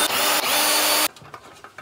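A power drill spins out screws to open the case of a 48V 105Ah LiFePO4 golf cart battery, two loud close whirring bursts lasting about a second, then a few faint clicks and handling knocks.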